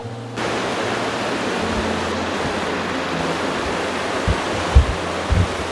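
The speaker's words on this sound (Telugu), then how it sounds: "చూడండి ఏ విధంగా వాటర్ అయితే జారుతుంది అనమాట కిందకి" A waterfall in a forest roars in a continuous, close, broadband rush of falling water, with a few low thumps near the end.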